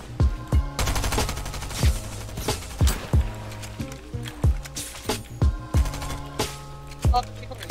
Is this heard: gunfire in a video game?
yes